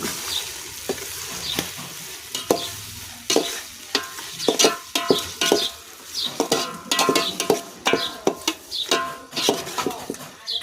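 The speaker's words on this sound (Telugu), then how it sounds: "దీన్ని కలిసినట్టుగా కలుపుకుందాము" Chicken curry is stirred in a pot over a wood fire, with a steady run of scraping spoon strokes against the metal and a sizzle underneath. It sounds close and fairly loud, and no voices come through.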